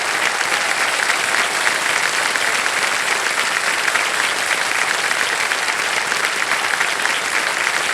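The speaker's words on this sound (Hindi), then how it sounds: "ताली बजती रहे, ताली बजती रहे इनके लिए" Studio audience applause on a television quiz show after a contestant wins a five-lakh cheque, steady dense clapping sustained at full loudness for the whole stretch.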